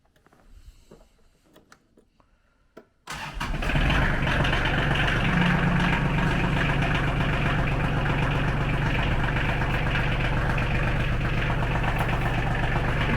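A diesel tractor engine catches after a few seconds on glow plugs in winter cold, then settles into a loud, steady, knocking idle close by, following a quiet lead-in.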